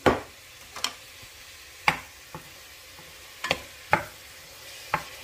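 Hot Italian sausage squeezed from its casing browns in a pan with garlic, giving a low steady sizzle broken by sharp utensil scrapes and clacks every second or so, close and fairly quiet with no talking.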